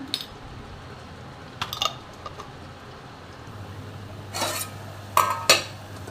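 A utensil clinks and scrapes against a pan while peas and mushroom curry cooks, with sparse light taps and a couple of louder knocks near the end over a low, quiet background hum.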